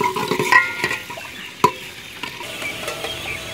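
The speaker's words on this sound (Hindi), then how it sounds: "इसमें हम कटे हुए प्याज डालेंगे। प्याज का रंग सुनहरा होने तक इनको पकाएंगे।" Chopped onions fry in a pan for Hyderabadi chicken dum biryani, with a soft steady sizzle, light stirring scrapes and one sharp clink, close and fairly quiet.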